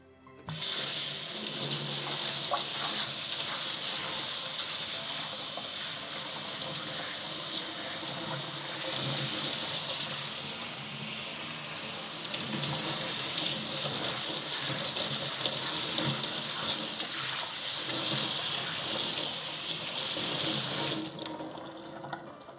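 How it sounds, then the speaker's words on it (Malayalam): Tap water runs steadily into a sink while red lentils are washed, a continuous close gush with splashing variations lasting about twenty seconds before cutting off. "ആദ്യം ഈ പരിപ്പ് നല്ലവണ്ണം കഴുകിയെടുക്കുക."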